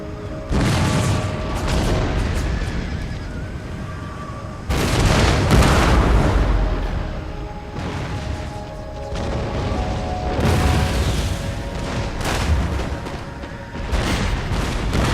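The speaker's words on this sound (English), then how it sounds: "my riflemen are firing at an entirely higher angle than I thought possible" Massed rifle volleys and booming gunfire from an Empire: Total War battle, with dense repeated bursts rolling through the whole stretch, loud and layered with battlefield rumble and no talking.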